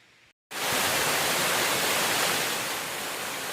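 A roadside waterfall near Wynoochee Lake roars with a loud, steady broadband rush of falling water that starts abruptly after a short quiet moment and holds constant.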